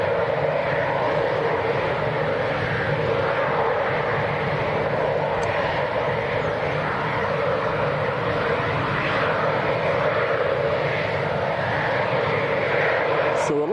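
A Ryanair airliner taking off at Leeds Bradford Airport: a loud, steady broadband jet engine roar lasting throughout, constant and unbroken, heard from the field nearby.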